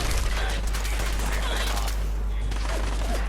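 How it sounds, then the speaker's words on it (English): Dense, continuous cannon broadside barrage in Fallout 4, a loud unbroken rumble of overlapping blasts with rattling crackle on top, heavy low-end roar throughout. "The cannons are ready. Fire at will. Broadside them, soldier."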